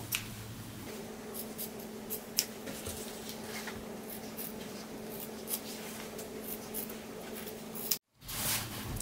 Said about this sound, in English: take some scissors and we are going to trim the corners.